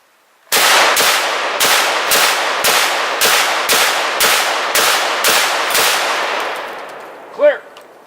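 An SKS rifle fires eleven 7.62x39 rounds into a ballistic barrier, loud sharp shots in a steady, evenly spaced sequence, followed by a brief metallic ring.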